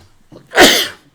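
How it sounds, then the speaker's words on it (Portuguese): A single sharp sneeze, close and loud, bursts out after a brief quiet moment. "Desculpa pelo espirro, que está muito frio à noite."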